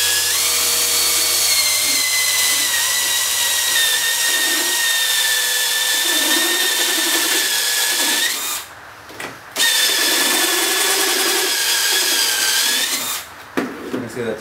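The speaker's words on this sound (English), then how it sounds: "I'm just drilling through here." A power drill bores through a wooden acoustic guitar body, a loud continuous whine that rises in pitch, stops briefly twice and starts again, close to the microphone.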